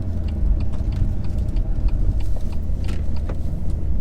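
A 2019 BMW M2 Competition on the move produces a steady low engine and road rumble heard from inside the cabin, continuous and fairly loud throughout.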